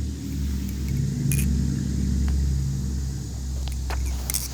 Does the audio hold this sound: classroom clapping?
no